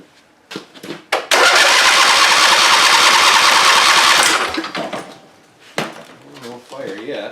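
An abandoned Husqvarna chainsaw engine cranks loudly for about three seconds without catching, a fast mechanical churning that stops, followed by quieter clattering and brief voices.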